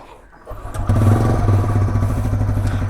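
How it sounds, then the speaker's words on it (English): A 2025 TVS Raider 125 motorcycle with a 125cc engine starts up and settles into a bassy, thumping exhaust note, heard close and loud with a steady rapid pulse. "And let's just hear the exhaust."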